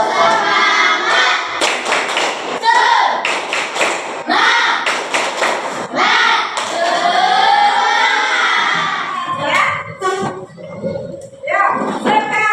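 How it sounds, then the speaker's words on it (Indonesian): Schoolchildren in an Indonesian classroom perform the tepuk semangat rhythmic clap: sharp patterned claps and thumps in quick sequences, alternating with loud group chanting. "Tepuk semangat"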